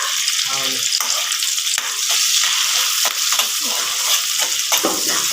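Onions with curry leaves frying in a pan for jeera rice give a loud, dense, continuous sizzle with stirring scrapes throughout.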